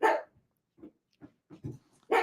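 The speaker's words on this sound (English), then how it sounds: "That's my dog in the background." A dog barks a few times in the background, loud bursts at the start and end with softer yips and whimpers in between.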